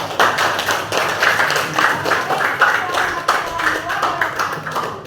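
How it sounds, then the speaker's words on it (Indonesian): A group claps in a rhythmic, fairly close round of hand clapping with distinct individual slaps, steady and loud across the whole span with no talk over it. "Tepuk tangan."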